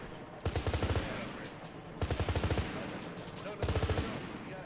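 Bursts of automatic gunfire from an enemy vehicle in ARMA 3 rattle out in three quick volleys, each a rapid string of sharp shots separated by pauses, moderately distant.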